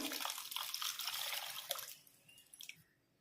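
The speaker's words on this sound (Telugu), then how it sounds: "కొంచెం నిమ్మకాయ సైజు పెద్ద సైజు చింతపండు తీసుకొని ఇలా రసం తీసుకొసుకోవాలి" Tamarind squeezed by hand in water to draw out its juice for a fish curry, giving close, wet dripping and splashing that thins out and fades toward the end.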